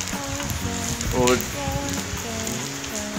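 Rain falls steadily in an outdoor setting, a continuous soft hiss with scattered drips, heard at moderate level while a voice briefly speaks.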